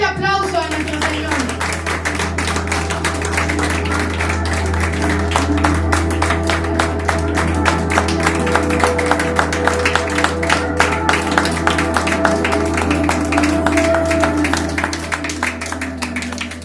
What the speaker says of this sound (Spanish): Denle un fuerte aplauso a nuestro Señor.